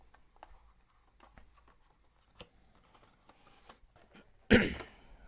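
Trading card deck package opened by hand: quiet scattered crinkles and small handling taps build to one loud tearing rip of the wrapper near the end, heard close with no talking.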